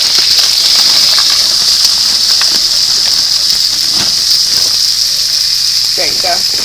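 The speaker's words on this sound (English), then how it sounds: "And then I'm actually going to pour some of the potatoes" Potatoes tip into a simmering pot for smothered potatoes, setting off a loud, steady hiss and sizzle that runs unbroken throughout, with faint clatter near the end.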